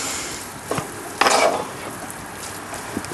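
Minced meat fried with onion and tomato paste is stirred in a pan, with soft sizzling under a few scraping strokes of a utensil, one louder scrape in the middle and faint clicks, heard close and alone.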